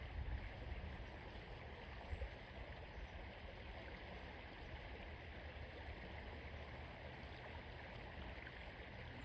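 Water runs steadily through a marsh stream, a continuous broad rushing wash that stays even and close for the whole stretch with no voices over it.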